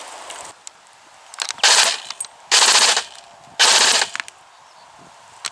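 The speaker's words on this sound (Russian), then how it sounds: "Выведено управление приводом и, соответственно, происходит стрельба." Three short bursts of rapid automatic airsoft gunfire from a gun mounted on an FPV drone rattle out, separated by quiet pauses, with faint mechanical clicks between them.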